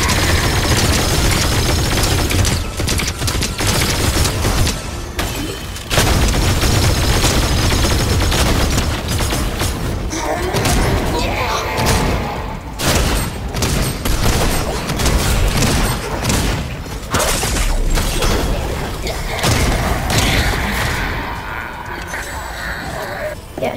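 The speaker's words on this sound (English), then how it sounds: "Look at me shooting!" Rapid gunfire and booming shots from a video game, dense and loud throughout with repeated bursts, while a player talks over the action.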